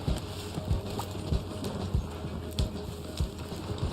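Horse hooves clip-clop at a steady walking rhythm in the video game Red Dead Online, moderately close, over a low ambient background hum with no talk.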